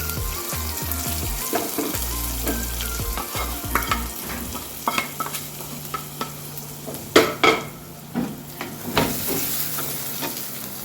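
Fried grated coconut tipped into a simmering curry with kudampuli, scraping and stirring in the pot, then a busy crackling sizzle with repeated clanks of the spoon, loud and close with no voices.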